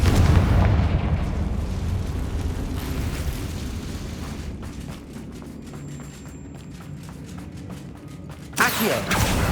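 A Confringo spell detonates in Hogwarts Legacy with a loud, rumbling blast that slowly decays into crackling debris, followed near the end by a second sharp burst.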